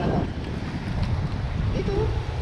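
Strong wind gusts buffet the microphone on a fishing boat near a rocky shoreline, a steady rushing roar with water in the background and people talking.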